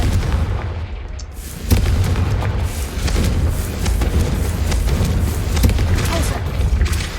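Confringo blasting spells going off in Hogwarts Legacy, a dense run of booming blasts and crackling bursts over low rumble, loud and continuous, with a voice calling out spell names over the din.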